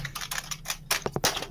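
Loud keyboard typing clatters up close in a quick series of sharp key strikes, ending with a few heavier thumps.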